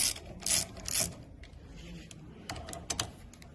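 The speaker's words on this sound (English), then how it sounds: "Then you're going to loosen these bolts, which is the impeller housing," A ratchet loosens the impeller housing bolts during an impeller change, giving short bursts of close, crisp clicking separated by pauses, with no one speaking.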